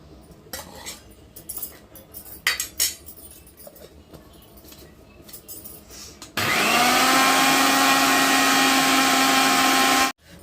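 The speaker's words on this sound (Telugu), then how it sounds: "ఇప్పుడు కానీ ఈ కొద్దిగా అయితే వేసి మిక్సీ తిప్పుకుందాం." Kumkum stones clink and rattle in a mixer grinder jar, scattered clattering knocks giving way to a loud, steady whining grinder motor that runs for about four seconds before stopping abruptly; no talking.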